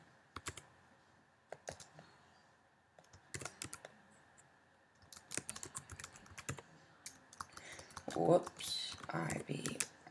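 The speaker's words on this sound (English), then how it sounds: "go ahead and type IB action" Someone types code in Xcode on a computer keyboard, giving bursts of quick, close key clicks separated by pauses, with a louder flurry of typing near the end and a person talking at times.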